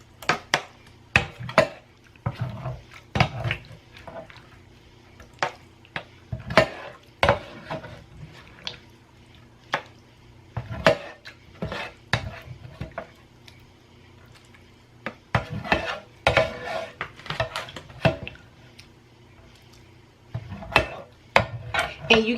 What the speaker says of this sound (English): So now I'm going to put my ground beef into a container